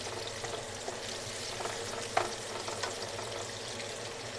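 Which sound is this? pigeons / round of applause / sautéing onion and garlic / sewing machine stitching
sautéing onion and garlic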